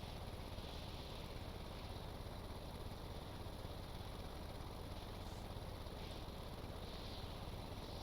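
Propeller airplane in Stormworks flying at about 133 knots, a steady, dense engine drone with a constant whir and no break.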